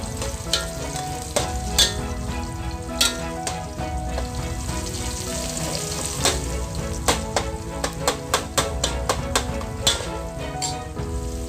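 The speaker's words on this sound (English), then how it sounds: "I'm going to allow my onions to brown" Onions browning in a pan for Indian red meat curry (ghosh korma), an even steady sizzle with frequent sharp crackles and pops, heard under background music and without talk.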